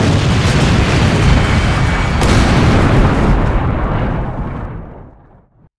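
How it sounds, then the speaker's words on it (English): Steam locomotive boiler explosion: a loud, continuous roaring blast that fills the whole clip, then dies away into silence near the end. "I'm about to die in a boiler explosion."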